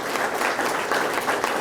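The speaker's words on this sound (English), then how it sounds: "So can we give Crystal Ice and Tom Poe a round of applause?" Applause at a cold storage expansion ribbon cutting, where a city crowd claps for Crystal Ice and Tom Poe; a steady, dense wash of hand claps fills the whole moment at moderate level.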